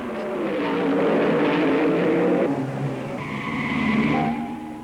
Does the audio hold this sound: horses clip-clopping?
no